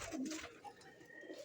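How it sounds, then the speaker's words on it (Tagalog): Soft, low cooing from a pet Oriental pigeon kept by a fancier, a brief murmuring call near the start that fades into quiet background hiss. "Isa siyang Oriental Pigeon."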